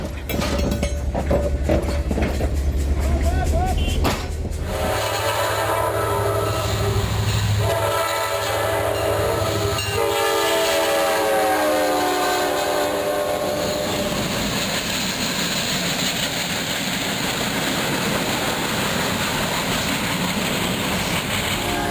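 A train on the Bangladesh railways sounding its horn during a demonstration of re-railing a derailed LHB coach, with heavy rumbling and clanking, sustained loud horn tones and steady close machinery noise throughout.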